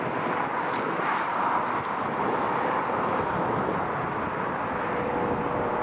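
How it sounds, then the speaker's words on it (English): Steady low engine roar with a rotor-like drone from a police helicopter at Newcastle International Airport, continuous and fairly distant, rising slightly as it lifts off; no talking. "Police helicopters just lifted."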